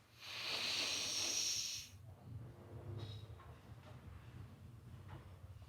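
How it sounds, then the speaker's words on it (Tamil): A deep yoga inhale is drawn through the left nostril during Chandra Bhedana pranayama: a close, airy rush lasting about a second and a half, then near silence. "இடது நாசி வழியாக மூச்சு நல்லா உள்ளே இழுக்க போகிறோம்"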